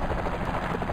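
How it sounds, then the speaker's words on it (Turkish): Helicopter arriving in an accident video game, its rotor beating loudly and close in a dense, throbbing chop that continues without a break. "Evet, helikopterimiz geldi."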